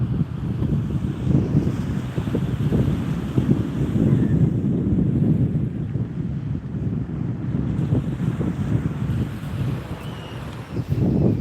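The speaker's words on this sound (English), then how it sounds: "Wind's getting bad again." Wind buffeting the microphone on a beach at Amelia Island, Florida, during surf fishing, a continuous low roaring rumble with surf noise beneath, loud and unbroken.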